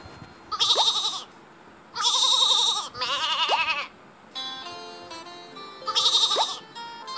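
Cartoon sheep bleating in a Baby Bus farm video game, several loud, wavering bleats in short bursts with brief gaps between them, alone over a faint jingly game tune.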